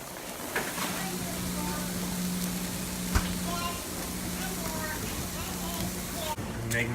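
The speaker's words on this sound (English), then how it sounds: "the chickpeas, which are starting to sizzle. Listen to that sizzle sound." Soft, steady sizzling of chickpeas frying in a pan, a low continuous crackle with a faint hum and a couple of clicks.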